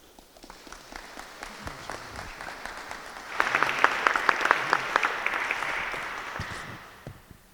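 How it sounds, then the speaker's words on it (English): An audience at the Swedenborg Foundation annual business meeting claps, starting as scattered applause and swelling into a fuller, steady round midway before slowly fading. "that clapping is not for me getting back up here at the podium"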